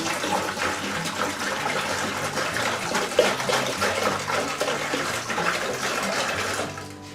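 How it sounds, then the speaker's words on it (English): Apple juice poured into a fermentation bucket, a steady continuous splashing gush of liquid that tapers off at the end, with no talking. "I'm going to put one of my apple juices into my fermentation bucket"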